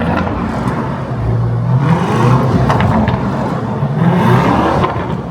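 A Lamborghini Urus accelerating nearby, its engine rising in a loud sustained roar with a couple of revving surges.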